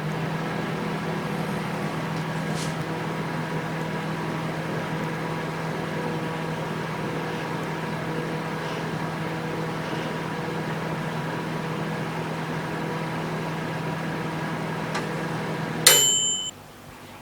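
A microwave oven hums steadily while cooking wheat fufu, ending with a sharp beep and click as it stops.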